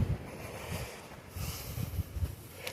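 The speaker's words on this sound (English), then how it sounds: "it's getting way windy out here" Wind rumbles and buffets against the microphone in uneven low gusts, steady and moderately loud outdoors.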